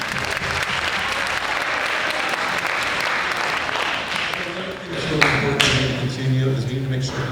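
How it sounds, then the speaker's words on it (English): An audience at a candidate forum applauds loudly and continuously, a dense crowd clapping that carries through to the end, with some voices rising near the close. "can we give a big round of applause to the park?"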